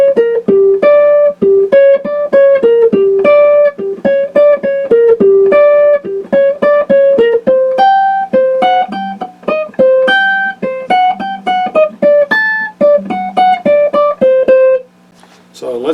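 An electric guitar plays a song's keyboard solo line as a steady, bouncy run of clear picked single notes, close and loud throughout, ending with a short fade.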